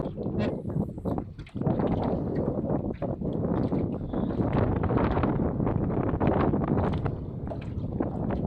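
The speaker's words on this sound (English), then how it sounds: "Thankfully this wind's blowing right now," Strong gusts of wind buffet the microphone outdoors on a hot day of crappie fishing, a loud rough rumble that dips briefly near the start and then roars on steadily.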